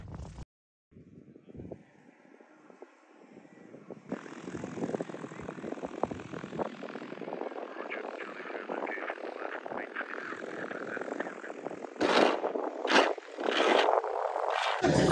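A propeller aircraft at Fife Airport drones in the background, growing gradually louder as it nears, with several sharp bumps and knocks near the end and no talk.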